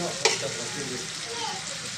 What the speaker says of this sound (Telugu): ఇప్పుడు కొంచెం ఫ్రై అయిన తర్వాత దీంట్లో కొంచెం వాటర్ వేసుకున్నామండి